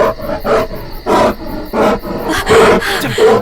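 Roaring from a bear in an action movie comes in a rapid run of short, harsh bursts, about six in three seconds, loud and close with growling texture between them.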